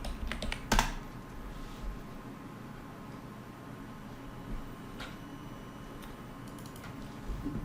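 Steady typing on a computer keyboard while writing code in a Jupyter Notebook, with quick soft clicking keystrokes running throughout, close and fairly quiet, with a couple of sharper taps near the start.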